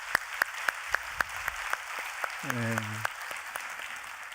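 A church congregation claps in applause, with sharp regular hand claps that thin out over a few seconds while a brief voice speaks in the middle.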